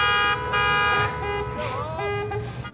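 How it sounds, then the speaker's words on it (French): A car horn honks at a prince in a street scene from the TV drama The Crown, several loud sustained blasts in a row with voices talking over them. "on a le droit de klaxonner un prince"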